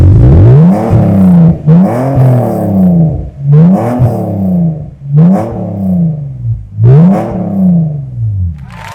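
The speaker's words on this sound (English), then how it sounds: "This exhaust note always excites me." A BMW E46's engine revs repeatedly, five rising-and-falling blips of a deep exhaust note, loud and close with brief pauses between.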